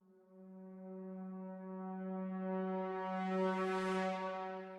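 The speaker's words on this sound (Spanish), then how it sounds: "hay un crescendo que también lo usé" A sampled orchestral sustained note played with a crescendo articulation, a steady held tone with rich harmonics that swells gradually louder and brighter over several seconds, alone with no talk.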